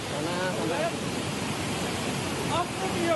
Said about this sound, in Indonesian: banjir juga diakibatkan jebolnya tanggul Sungai Tuntang